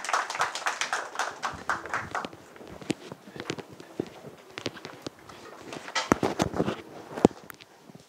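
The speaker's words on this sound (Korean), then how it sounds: "우리 박수로 환영해 주시면 감사하겠습니다." At a missions conference, the audience welcomes a speaker with clapping that starts fairly dense and thins into scattered, uneven claps before a brief late swell.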